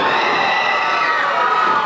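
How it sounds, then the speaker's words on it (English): A wrestling crowd at a live charity show roars in a loud, sustained burst of cheering and shouting, filling the room up close with no pause. "everything Alex Xavier and D'Angelo do gets a huge pop from the crowd"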